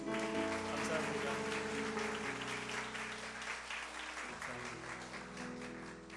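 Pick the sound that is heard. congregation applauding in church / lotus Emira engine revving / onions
congregation applauding in church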